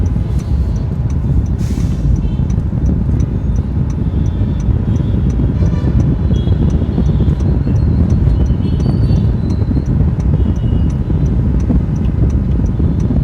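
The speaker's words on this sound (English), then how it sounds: "And there is all kinds of crisscross traffic." Busy crisscross road traffic near Bangalore International Airport, where NH44 runs northbound toward Hyderabad, forms a loud, steady roar of engines and tyres that continues unbroken with no clear individual passes.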